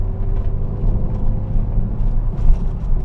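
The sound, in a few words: Renault Megane RS engine powering through corners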